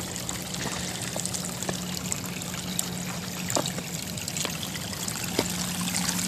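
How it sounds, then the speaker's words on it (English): Flowing stream water trickles and pours into a Platypus water bag in the woods, a steady close gurgle with small splashes throughout and no talking. "I'm going to fill this platypus up"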